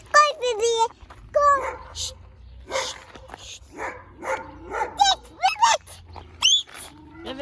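A dog yips and barks in short high bursts close by at a park, mixed with a child's and an adult's voices.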